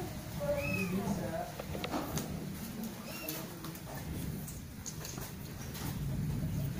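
A cat meows a few times at close range amid background chatter and household noise.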